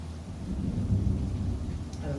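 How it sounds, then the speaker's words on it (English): Heavy rain pours down steadily with a deep rumbling low-end wash, a continuous dense roar that holds at even loudness throughout with no voices. "It is pouring down rain"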